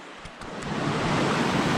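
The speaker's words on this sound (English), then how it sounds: "This is the water crossing right here." A stream at a trail water crossing in the Crawford Notch area, heard as a steady broadband rush of flowing water that swells after a brief start and holds constant, close and fairly loud.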